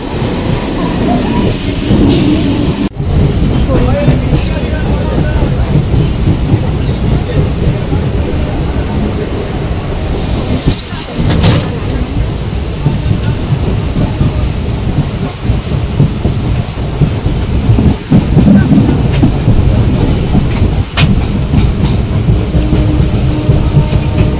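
A train pulls in at a busy station platform on a hot day, its loud steady rumble and rattling wagons filling the scene, with brief clanks and a few voices of waiting passengers underneath.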